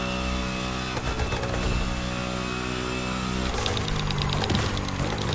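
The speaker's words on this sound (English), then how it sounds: "You can hear that whine of the supercharger." Supercharger whine from a tuned Porsche in The Crew Motorfest racing game, a steady high engine drone under loud revving that shifts pitch partway through, continuous and close with no talking.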